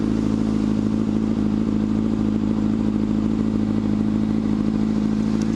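A motorcycle idles at a red light on a hot street in New Orleans, its engine a loud, steady low rumble with even pulsing throughout, close and unbroken.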